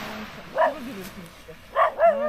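A dog, the mother of a litter of puppies, barks outdoors on a calm summer morning: one short bark, then two more in quick succession after a pause, fairly close and clear over quiet surroundings.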